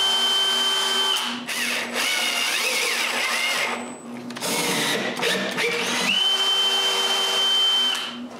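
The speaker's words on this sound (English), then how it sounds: "When all the holes are drilled, I screw the casters to the bottom of the case." Power drill driving screws to fix casters onto the bottom of a wooden chest of drawers case on a workbench, a steady whining motor run in several bursts with brief pauses, close and loud.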